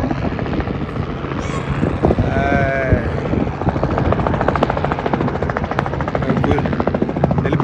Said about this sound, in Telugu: హెలికాప్టర్ ఏదో పోతుంది చూసారా